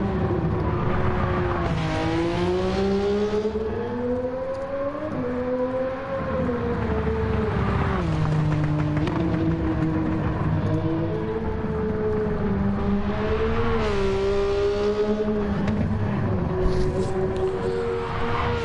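A Gran Turismo 7 race car engine whines continuously, climbing and dropping in pitch through repeated gear shifts, with occasional tire screech; synthetic-sounding and steady, no talking.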